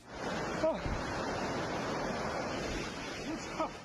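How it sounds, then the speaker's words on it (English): Flash floodwaters of the Changtang River surge in a continuous rushing roar, a dense, even wash of water noise at moderate level, with faint brief vocal-like traces near the start and end. "scrambling up a tree as the floodwaters surged beneath him"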